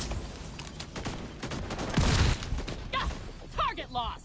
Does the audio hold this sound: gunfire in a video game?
yes